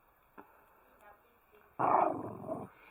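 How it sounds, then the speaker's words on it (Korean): A pet dog gives a few faint noises, then a loud, rough burst of growling and barking for about a second before it fades. "너 지금 누나가 뭐라 했다고 짖는 거야? 으르렁 대는 거야?"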